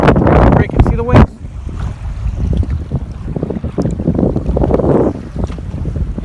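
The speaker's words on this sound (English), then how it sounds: "It's windy as shit. The waves are beating the crap out of me." Strong wind buffets the microphone around a small boat at sea in a storm while waves break and slosh against it; a voice talks over the roar in bursts.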